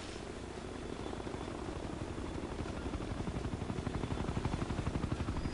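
A helicopter in the video game Ghost Recon: Future Soldier drones steadily with a rhythmic rotor chop that grows slightly louder and more pronounced toward the end, with no talking over it.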